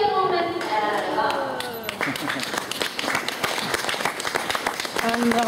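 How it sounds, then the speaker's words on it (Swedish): Applause at a children's prize ceremony after a race, a burst of clapping that continues in scattered claps, with people talking over it. "Vi ger lyssnarna en applåd och ber om en ära."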